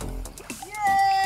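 People splash and bathe in clear water at a beach in Occidental Mindoro, with short splashes mixed with excited voices and someone talking close by.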